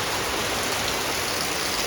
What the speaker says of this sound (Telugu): ఫుల్గా వర్షం అయితే పడుతుంది